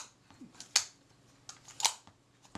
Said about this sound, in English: the camera opens and closes, the focus is smooth, shutter release is nice and floppy